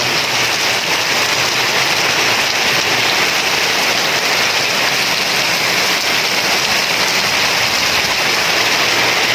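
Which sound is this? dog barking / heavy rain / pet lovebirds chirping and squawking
heavy rain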